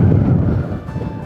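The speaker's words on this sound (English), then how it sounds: "There is a strong wind here," Loud, low wind buffets the microphone in heavy rumbling gusts that ease off slightly toward the end, with no voices.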